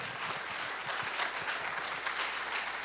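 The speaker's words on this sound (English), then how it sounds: "Big round of applause for my co-director, Joe Sims" Audience applauding for a co-director at a live speaking event, dense sustained clapping from a crowd nearby, steady throughout with no voices over it.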